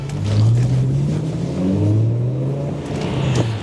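A left-hand-drive car's engine runs and revs close by, a low droning hum that rises and falls in pitch over a few seconds.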